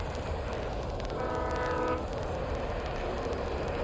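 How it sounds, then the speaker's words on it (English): In the Alan Wake video game, a train horn sounds one sustained, moderately distant tonal blast over the low rumble of the passing train, with no voices. "I heard the horn of something. Oh, it's a train."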